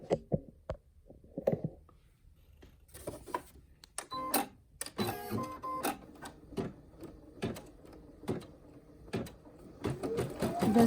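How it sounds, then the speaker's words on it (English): An embroidery machine sews a satin-stitch edge around a patch, making rapid, uneven ticking and clacking bursts close by with short pauses between them. "The satin stitch is 4 minutes, so I will let it run for a second"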